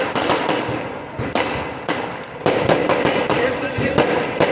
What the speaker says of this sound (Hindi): ये पटाखे फोड़ना आप बंद कर दें